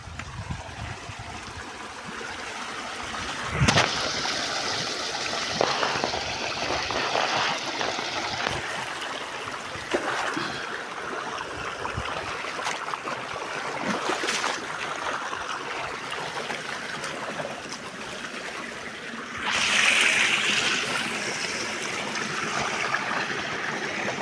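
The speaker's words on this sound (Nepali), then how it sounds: "पानी सरर छ पैनीमा।" Water trickles and gurgles through an irrigation channel in a Nepali rice field, a close, continuous babbling flow with occasional sharper splashes and knocks over it.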